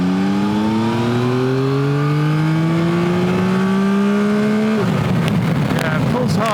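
A Yamaha Tracer 9 GT motorcycle engine pulls hard in third gear from about 3000 RPM, a loud steady rising drone that climbs smoothly in pitch before wind buffeting and rumble take over.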